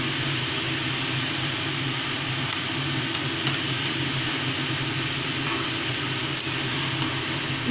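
Winter vegetables frying in a pan on a gas flame turned to full, a loud, even sizzle close up that holds steady with no break and no voices.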